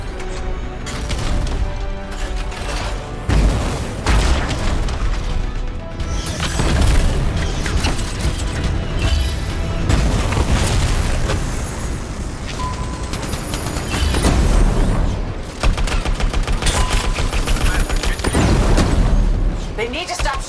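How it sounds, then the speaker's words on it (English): Heavy combat in the video game Anthem: gunfire and booming explosions layered over a dense, continuous game soundtrack, loud and close throughout, with heavier blasts swelling around the middle and end, and game voices under the noise. "They need to stop shooting me out of the air!"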